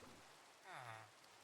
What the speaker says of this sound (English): Oh great, it's raining.